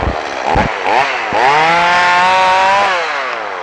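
A chainsaw cuts dry branches high up in a tree, loud and close, its engine note rising and holding steady as it bites through the wood after a few short revving bursts.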